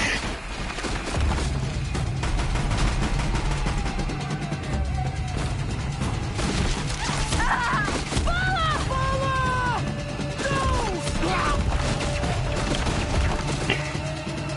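Gunfire and crashing impacts from the action video game Horizon Zero Dawn, dense bursts of shots and thuds mixed with game music and tonal effects, running steadily under a busy, loud soundscape with occasional in-game voices.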